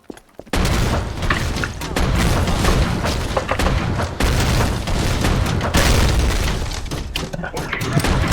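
Grenade blast in the first-person shooter Fortress Forever, set amid a dense, continuous wash of game combat noise with loud booms and thuds, while a player talks over the action.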